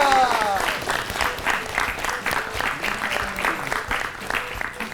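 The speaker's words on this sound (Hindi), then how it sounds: "हो जाए एक बार फिर से जोरदार तालियां" Loud applause from a studio audience on a children's quiz show, continuous dense clapping that swells and fades slightly over several seconds, with a voice speaking over it.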